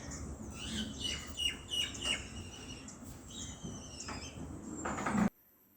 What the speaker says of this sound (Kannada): ನಮ್ಮ ಅಮ್ಮನ ಮನೆ ಸುತ್ತಮುತ್ತ ಎಲ್ಲ ಪಕ್ಷಿಗಳು ಶಬ್ದ ಕೇಳ್ತಾನೆ ಇರುತ್ತೆ.